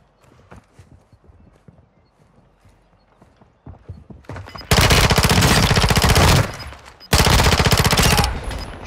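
Rapid automatic gunfire from a weapon in the video game Warzone 2 comes in two loud, dense bursts after quieter handling and footstep noises, close up and harsh.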